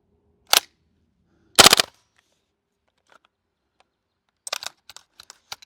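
A GHK G5 gas blowback airsoft pistol fires on semi-automatic: two loud, sharp reports about a second apart, followed by a scattering of lighter mechanical clicks and taps, with no voices.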